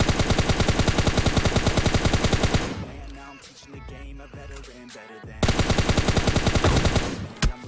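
In the mobile shooter PUBG Lite, an S12K and an M4 fire loud, rapid automatic bursts, then pause for a few seconds before another long burst resumes.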